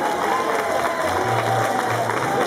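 An audience applauds Jacques, an honorary member of the FC Talmondais football club, at a trophy ceremony, a steady wash of clapping from a crowd in a hall with a voice talking over it.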